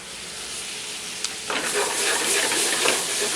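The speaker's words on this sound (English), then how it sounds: "Apples, as you notice, the butter is beginning to brown, and this is exactly what we want." Apples sizzle in browning butter in a pan, a steady hiss that jumps abruptly louder and more vigorous halfway through and then stays as a dense, close crackle.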